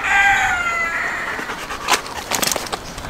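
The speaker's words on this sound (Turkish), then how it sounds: "Şimdi şu tavukları koyalım arkadaşlar." Chickens cluck and a rooster crows close by in a farmyard setting. A long crow with strong harmonics opens, followed by scattered sharp clucks and squawks.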